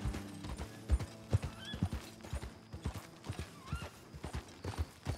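Horse hooves in Red Dead Redemption 2 strike in a fast, uneven rhythm of crisp clip-clops, mixed with creaking tack and an occasional short whinny, all close and clear.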